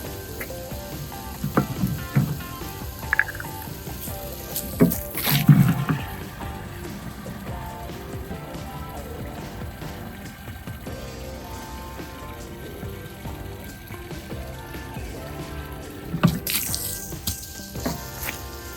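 Water pours steadily into a bucket, filling to 4 gallons, with a constant splashing hiss, broken by occasional clunks and knocks.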